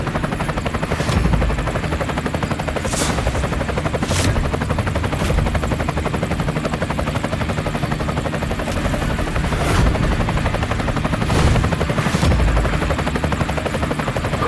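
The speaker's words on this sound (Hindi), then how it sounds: "अरे ये तो करोड़ों का हेलीकॉप्टर है" A helicopter's rotor thumps loudly and continuously nearby, a heavy rhythmic chopping that fills the whole stretch.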